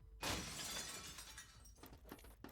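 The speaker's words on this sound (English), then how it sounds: "the sound of a glass being smashed comes from above their heads" Glass smashing in the video game Girls Frontline, a sharp loud shatter followed by tinkling shards and a few scattered smaller crashes, no voices.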